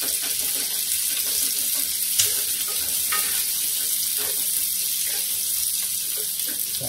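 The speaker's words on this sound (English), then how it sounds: "Just let these start sauteing and brown a little bit." Meat and vegetables for beef stroganoff saute in a hot pan, a loud continuous hiss of frying that hardly changes, with a few faint clinks and no talking.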